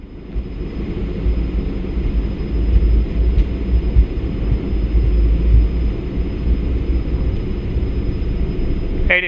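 Jet engines on a Cessna Citation CJ1 roar at takeoff thrust, a steady loud low rumble with broadband roar heard from inside the cockpit, continuous with no talking.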